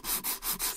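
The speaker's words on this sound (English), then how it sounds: "And it sands really easy, this green putty." A small sanding board rubbed over green putty on a 1984 Jaguar XK120 Matchbox model car, four steady back-and-forth rasping strokes, close and even, with nothing else heard.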